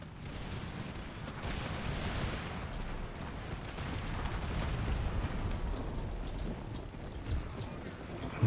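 Massed musket volleys roll on continuously in a large Empire: Total War battle against Great Plains archers, a dense, rumbling wash of gunfire with no clear separate shots.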